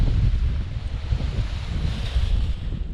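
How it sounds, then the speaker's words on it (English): Strong coastal wind blasts steadily across the microphone at a paragliding site, a loud continuous low roar with gusty buffeting and a faint surf-like hiss behind it throughout. "It suddenly got really windy."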